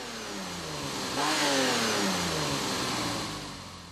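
A vintage Citroen SM with its Italian engine, rated at 170 or 178 horsepower, revs up from idle to a loud, sustained rising roar, then eases back down, heard alone.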